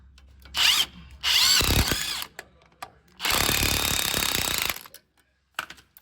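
Impact wrench driving shock absorber bolts on a 2013 Chevrolet Silverado during a CV axle job, with loud bursts of hammering rattle separated by short pauses and a brief final blip, with no talk.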